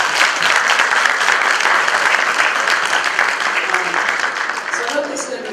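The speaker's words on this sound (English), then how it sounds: "Can we just give them a round of applause" An audience at a Mother's and International Women's Day evening event breaks into sustained, loud applause that fades slightly toward the end.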